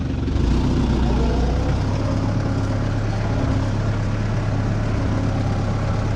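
A tractor hitched to a trailer runs steadily, its engine giving a loud, unbroken low drone that stays constant from start to finish with no voices over it.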